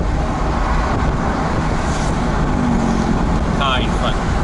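A BMW 640i Convertible with 320 horsepower, driven with the top down through city traffic in Kuala Lumpur, its engine pulling as it accelerates under steady road and wind noise.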